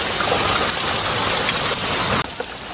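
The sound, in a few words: heavy rain falling on fields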